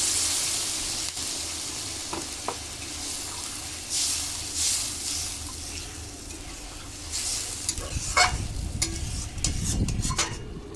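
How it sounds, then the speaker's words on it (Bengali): Water poured into a pan of frying pointed gourd and potatoes, with continuous sizzling and stirring that swells into a louder, bubbling hiss near the end. "এবার দিয়ে দিচ্ছি জল সেদ্ধ হওয়া মতো জল দিয়ে দেবো"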